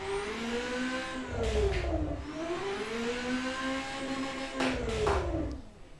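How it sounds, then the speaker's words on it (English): A NASCAR-based supercar engine revs up and down in smooth rising and falling sweeps, close and loud, with two sharper bursts of throttle and no talking. "This is a pretty scary engine."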